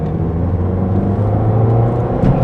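Engine of a Peugeot 206 RC car pulling hard on a short straight, a loud, close, steady rumble with a rising pitch, with no voices.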